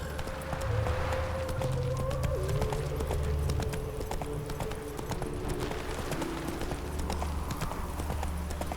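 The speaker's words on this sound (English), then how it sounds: "Whoa there, Roach." A horse's hooves clip-clop steadily in The Witcher 3, a continuous trotting rhythm heard close and prominent over the game's low ambient music.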